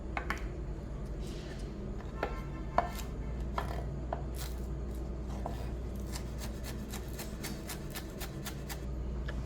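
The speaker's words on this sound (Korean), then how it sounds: "여기 이태리 파슬리, 딜, 그리고 차이브, 타라곤까지 이렇게 해서 얘네들은 다져서 섞어 주도록 할게요" Knife chopping fresh herbs — Italian parsley, dill, chives and tarragon — on a board for a seafood finger-food dish, a steady run of sharp close taps over a low background hum.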